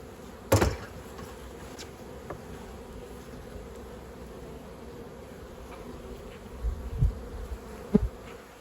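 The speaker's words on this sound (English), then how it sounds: "Well, there's bees up here." Honey bees buzzing around a frame of honey pulled from a hive, a steady low drone close by, broken by a few soft knocks and handling bumps.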